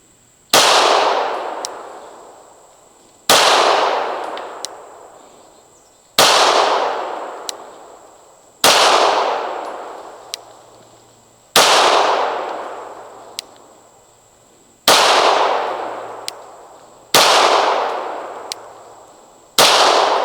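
A Stealth Arms Platypus 1911 pistol fires eight evenly spaced, loud, sharp shots at an outdoor range, each crack trailing off in a short ringing echo with a faint clink after it.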